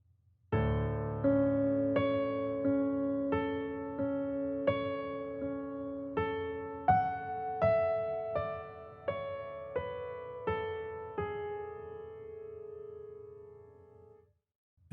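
A piano plays the left-hand part of a piece: a low bass note rings under a steady run of single notes that descends and then repeats, each note decaying cleanly, solo with no talking.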